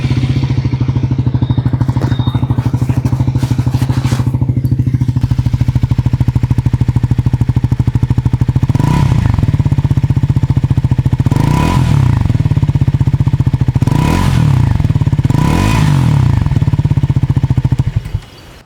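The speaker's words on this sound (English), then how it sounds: "let me also make you listen to the exhaust note, because you have to" A Triumph Tracker 400 motorcycle idles loud and close with a steady low exhaust note, then revs sharply three or four times in quick succession before cutting off near the end.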